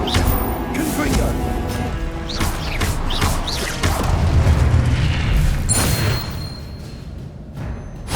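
The Confringo fire spell in Hogwarts Legacy lands as booming blasts and crashes amid dense combat noise, with thuds and whooshes throughout and a voice briefly heard among the effects.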